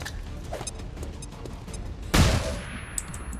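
A flashbang grenade detonates in the XCOM 2 video game with a sudden loud bang and crackling burst that rings out and decays over about a second, set against a steady low game-ambience bed.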